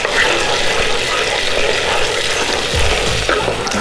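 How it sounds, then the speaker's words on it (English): Flour is stirred into melted butter in a pan for a blonde roux: a steady, close sizzle with a soft scraping of the spoon, no talking. "you just want to go ahead and add in your flour and give it a stir"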